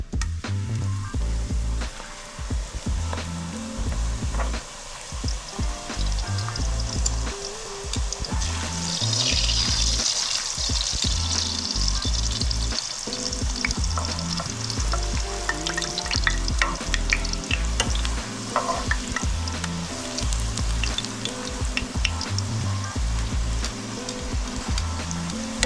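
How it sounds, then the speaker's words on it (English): Tortillas fry in hot oil for chicken enchiladas, giving a steady loud sizzle and crackle with bursts of bubbling and occasional clinks of a utensil stirring, continuous throughout with no talking. "So I'm gonna go straight into the oil with these tortillas."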